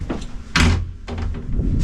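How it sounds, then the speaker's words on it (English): A transom door on a 43-foot American Tug boat swings and knocks shut, a sharp close thump standing out over steady background noise with no talk. "transom door, swings,"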